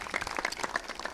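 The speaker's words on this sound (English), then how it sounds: "let's also give a round of applause for the producers of this" An audience at a Long Island Manufacturing Day event at the Cradle of Aviation claps in a brief, soft round of applause, scattered hand claps blending into a light patter.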